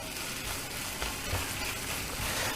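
Spices with a pinch of asafoetida powder are stirred as they fry in a pan. The clip holds a dense, continuous sizzling hiss that stays even and fairly loud throughout, with no voices.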